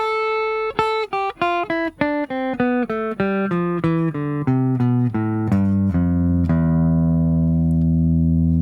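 A guitar plays a descending Phrygian scale run of single plucked notes, evenly paced and close, ending on a low note left ringing out.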